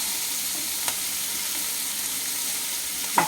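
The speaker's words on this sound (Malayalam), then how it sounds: "നന്നായി വഴറ്റുക. ഉള്ളി ഒന്ന് വേവണം." Onions sautéing in a pan give a steady, continuous broadband sizzle from start to finish, with a couple of brief clinks or stirring knocks and no talking.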